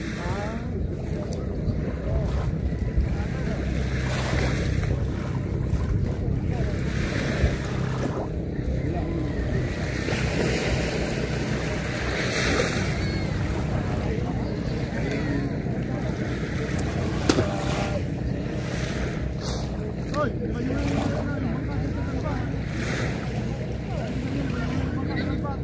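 Two fishing boats approach out at sea during squid net fishing, their engines droning steadily under the wash of waves and gusting wind. People talk throughout.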